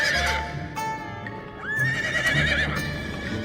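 Horses neigh in several loud, close whinnies, with faint hoof clip-clop and music in the background.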